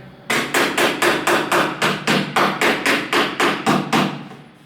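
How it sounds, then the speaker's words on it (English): A hammer taps dowels into a wooden drawer from the back about fifteen times in a quick, steady rhythm, each blow sharp and close, with no voices. "we can just tap it with a hammer from the back."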